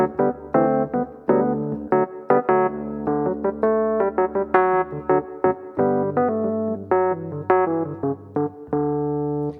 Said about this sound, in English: Just to compare again, here's Rhodes 1.